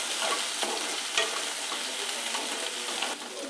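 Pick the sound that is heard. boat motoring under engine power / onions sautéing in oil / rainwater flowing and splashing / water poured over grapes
onions sautéing in oil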